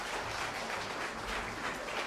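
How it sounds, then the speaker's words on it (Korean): A Korean church congregation in Busan claps as the pastor comes forward, a brief, dense, even burst of applause with no speech. "박수로 영접해 주시기 바랍니다."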